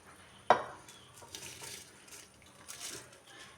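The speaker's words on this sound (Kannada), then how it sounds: "ಇವಾಗ ನಾನು ಇದಕ್ಕೆ ರೈಸ್ ಹಾಕ್ತಾಯಿದ್ದೆ" Washed basmati rice tipped into a pot of mutton biryani: a sharp metallic clink opens, then soft, faint hissing pours and patters in short bursts.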